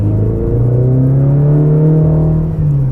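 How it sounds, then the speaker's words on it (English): A 2016 Mini Cooper S Clubman (F54) in sport mode at full throttle, its engine roaring loudly and climbing steadily in pitch as it revs toward redline. "if you unleash your sport mode and you just floor the car"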